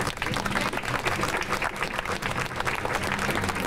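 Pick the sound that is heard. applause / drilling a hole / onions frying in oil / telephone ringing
applause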